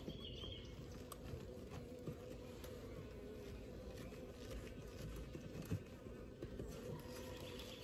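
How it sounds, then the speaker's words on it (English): Honey bees in a Layens horizontal hive during an inspection, a faint, steady low buzzing hum with scattered small bumps and taps, no talk. "Now I can hear the hive."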